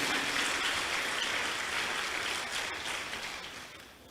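Steady applause from a church congregation, a dense wash of clapping that slowly fades toward the end.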